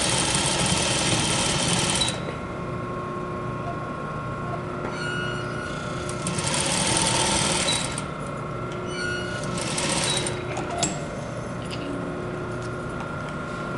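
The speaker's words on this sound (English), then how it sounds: "slowly and carefully making sure your raw edges are together, you're going to sew right to the end." A sewing machine runs a French seam in fabric, humming steadily and close for the whole stretch, with its pace rising and easing in a few longer surges.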